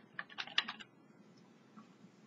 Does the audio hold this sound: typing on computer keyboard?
yes